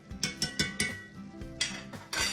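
Metal spoon scraping and clinking around a pot of catfish sauce piquante, a series of close, sharp knocks and scrapes in an uneven rhythm with no talking.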